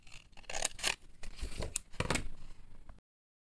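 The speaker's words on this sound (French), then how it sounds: "je trouve que c'est beaucoup plus simple avec une paire de ciseaux" Several crisp snips of scissors cutting paper, quick irregular cuts close by, with faint rustling between them and silence at the end.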